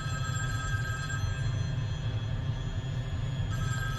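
A telephone rings steadily and unbroken for several seconds, with the ring tone sustained over a low background hum and no talk.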